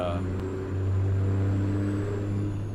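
A truck engine in American Truck Simulator drones with a steady low hum and faint whine, holding a fairly even level without clear revving.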